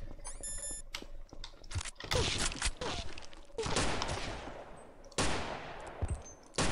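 Video game gunfire in Jaykin Bacon, bursts of rapid shots and sharp blasts in uneven clusters, loud and close, with electronic tones and beeps early on.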